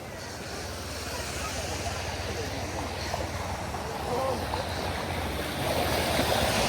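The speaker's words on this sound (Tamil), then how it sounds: "நீரோட்டம் கூடுதலா இருக்குது இந்த இடத்துல" Broad, steady rushing of a fast floodwater current in Sri Lanka, a continuous roar that swells slightly toward the end, with no distinct breaks.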